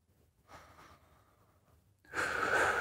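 Breathing during a lower trunk rotation exercise: a soft, airy breath early on, then a louder, sustained exhale toward the end, close and alone without talk.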